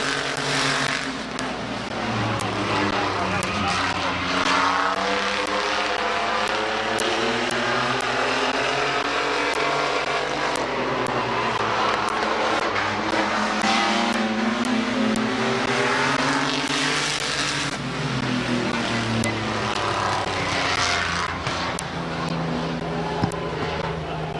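Race cars roar around Midvale Speedway on the final lap, a loud continuous engine drone with shifting pitch as cars pass close by, dense and steady throughout without a break.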